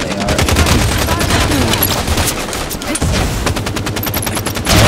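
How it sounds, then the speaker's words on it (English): An assault rifle in Halo 5 4v4 Slayer multiplayer fires in rapid, loud, continuous automatic bursts up close, layered with other weapon fire and game effects, with faint talking underneath. "I'm gonna pull the AR."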